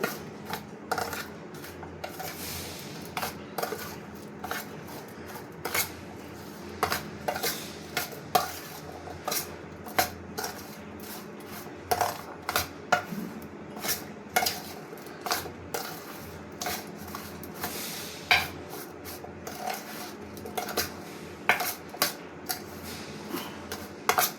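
Raw mango pieces are mixed with fenugreek for pickle. The mixing makes repeated soft scraping and rubbing strokes against a container, fairly quiet and close, with irregular clicks throughout.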